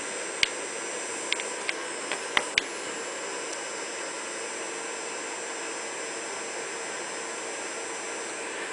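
A Pittman DC motor with an encoder runs steadily on 24 volts, giving a constant whirring hiss with a few faint clicks near the start.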